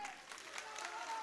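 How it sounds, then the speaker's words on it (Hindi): Applause from the audience at a birth-anniversary commemoration event, a short, fairly soft burst of clapping with steady texture and a faint tone running underneath. "जोरदार तालियों से मित्रों,"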